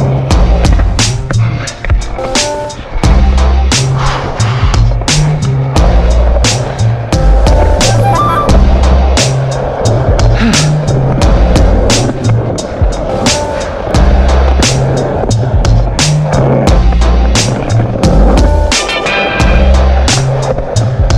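Skateboard wheels roll and clack across a skate park, with loud repeated deck slaps and grinding rolls in an uneven rhythm, close and continuous with no talk.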